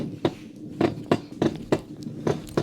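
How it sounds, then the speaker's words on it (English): A steady series of soft, muffled thumps repeats at an even pace, like a slow heartbeat pulse, with a low hum underneath. "the heartbeat."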